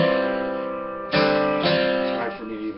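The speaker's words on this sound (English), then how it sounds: "so I don't strum back up when I do the hammer, otherwise it sounds like this" Acoustic guitar chords ring out with a couple of strums and a hammered note change, sustained and fairly loud with no voice.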